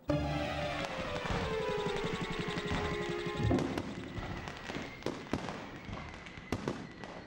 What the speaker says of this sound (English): there was a loud scream and a big bang, and the sky lit up all over